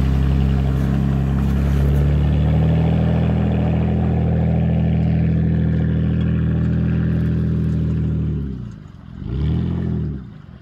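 A Jeep Wrangler fitted with a Meyer spreader drives through water, its engine a steady, loud drone that dips briefly near the end, then surges again before cutting off. No voices.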